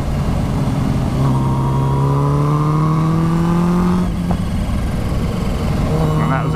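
Kawasaki H2 supercharged motorcycle exhaust on a road, a loud steady rising engine note climbing in pitch for a few seconds, then dropping off and settling back to a lower tone.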